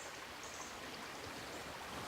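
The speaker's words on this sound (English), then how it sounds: "a chance to cool my feet walking through the river for once" Feet wade through a shallow, clear flowing river in Cornwall, the steady rushing and gurgling of the water filling the whole span evenly at a moderate level.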